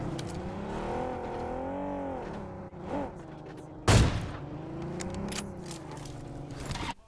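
A vehicle in PUBG Mobile drives along with a steady engine drone that rises and falls as it revs, a sharp burst of gunfire cutting in midway, loud and close, with no talk.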